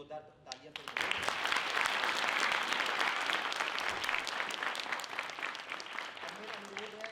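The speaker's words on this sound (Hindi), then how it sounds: "प्रस्तुति के लिए जोरदार तालियां बजाएं।" A theatre audience at a solo stage performance of Chekhov's The Bet breaks into loud, sustained applause that swells quickly and holds steady, with faint voices briefly audible at the start.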